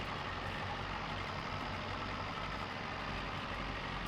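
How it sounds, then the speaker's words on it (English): A loud, rumbling tractor engine in Farming Simulator 22 drones steadily and continuously at close range, heavy low-end noise with no voices. "It's still a very loud tractor."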